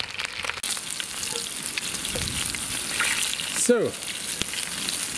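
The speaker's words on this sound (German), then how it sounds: "Jetzt geben wir hier unser Fleisch hinein und das braten wir jetzt richtig schön scharf von allen Seiten ringsherum an" Pork shanks searing in a Dutch oven over embers, loud steady sizzling up close, with a brief spoken word at the start and a short squeak of metal midway.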